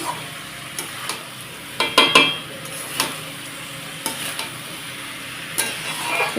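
Washed rice and lentils are stirred and fried in a spiced tempering for khichuri, with a soft sizzle under regular scrapes and clinks of a spoon against the pot.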